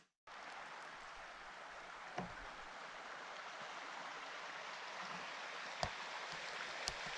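A creek runs beneath a small footbridge outdoors, producing a continuous, even rush of flowing water at moderate distance, broken only by a few faint clicks.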